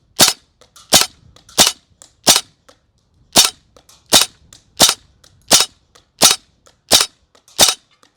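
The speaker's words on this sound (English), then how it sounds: "So it is a shotgun shooting 3 BBs at once." An airsoft shotgun fires three BBs per shot without hop-up, about a dozen sharp, loud, close pops spaced roughly every half second to second in a steady cadence, with brief quiet gaps and no talking.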